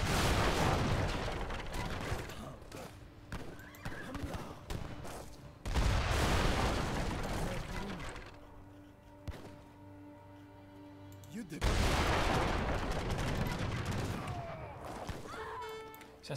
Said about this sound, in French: On va éviter le canon fixe.